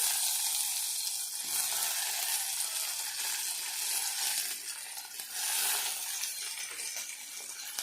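Steady crackling sizzle of tomatoes and chillies frying in a pan, with occasional scraping stirs, close and continuous without talk.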